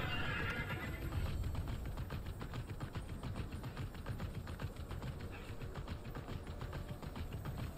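A horse in the video game Immortals Fenyx Rising whinnies near the start, then steady clip-clop of galloping hooves runs on at moderate volume with no talk.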